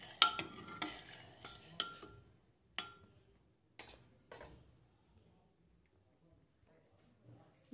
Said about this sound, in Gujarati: બધો વઘાર આપણે બરાબર મિક્સ કરી લઈશું